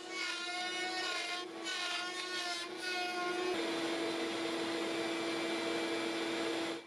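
A router cuts along an existing slot in 1/4-inch wood stock, a steady, loud whine that holds without a break, its pitch shifting slightly partway through.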